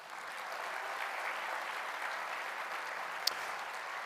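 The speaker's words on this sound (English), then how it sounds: "Let's give a round of applause for the true stars of the high school football season" Sustained crowd applause fills a luncheon hall at a high school football season kickoff event, steady and dense throughout with a single sharp clap near the end.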